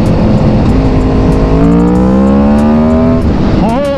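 Aprilia Tuono V4 motorcycle engine revs hard on a test ride, rising harmonic whine climbing through gears with a brief dip and sharp rev near the end, loud and close against steady wind noise.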